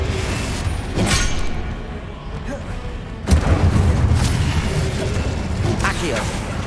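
A Confringo blasting spell erupts in Hogwarts Legacy: one sharp, loud explosive burst strikes midway, followed by a sustained rumbling roar over busy, mechanical-sounding game noise.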